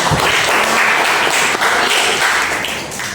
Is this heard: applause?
yes